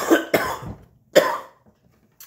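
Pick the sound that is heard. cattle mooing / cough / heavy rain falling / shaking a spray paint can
cough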